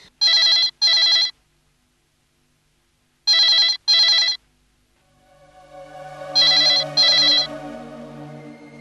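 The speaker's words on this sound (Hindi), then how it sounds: "इतनी रात को हमारे वहाँ कौन फोन कर सकता है?" A telephone rings late at night in a quiet home, sounding in three separate pairs of bright double rings with silence between them, the last pair over a swelling dramatic music bed.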